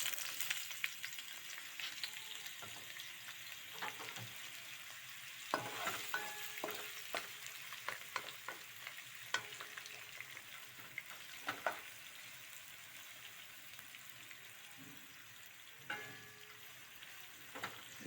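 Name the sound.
onions frying in hot oil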